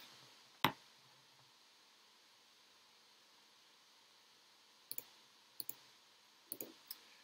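Computer mouse clicks, one sharp click alone followed after a long quiet pause by several pairs of quick, faint clicks against light background hiss.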